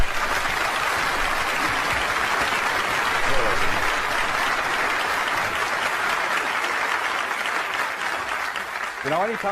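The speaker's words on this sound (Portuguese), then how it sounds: "Então vamos dar a John uma grande salva de palmas, de boas-vindas, enquanto ele sobe ao palco." Sustained audience applause welcoming a seminar speaker onto the stage, steady and full for nearly ten seconds, with faint voices mixed in near the end.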